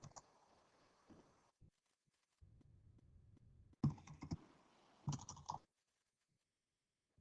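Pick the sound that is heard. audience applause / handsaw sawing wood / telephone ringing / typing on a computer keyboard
typing on a computer keyboard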